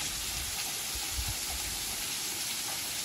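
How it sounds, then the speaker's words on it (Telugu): Mahitapuram waterfall pouring over rocks: a dense, steady roar of rushing water, loud and unbroken for the whole stretch, with no voices. "చూసుకోండి వాటర్ ఫాల్."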